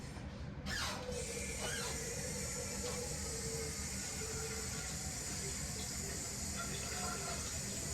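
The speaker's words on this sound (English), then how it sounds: "I will put my water in my pot to make my macaroni and cheese" A steady stream of water runs into a pot for macaroni and cheese, a continuous broadband hiss and splash with faint clinks, close by and without talk.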